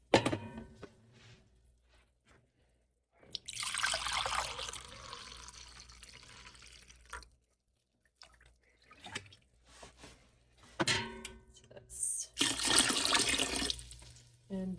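Filtered water and distilled vinegar are poured in separate bursts into a container for pickling cucumbers and onions, each pour a splashing rush broken by quiet gaps, a few knocks, and brief talk.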